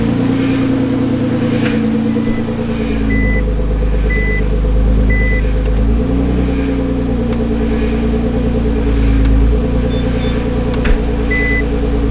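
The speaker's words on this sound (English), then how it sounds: "The power steering pump's blowing out, it's just like spinning on it" A Nissan GT-R engine idles steadily with a whining, grinding tone from a failing power steering pump that wavers in pitch, joined by faint intermittent electronic beeps.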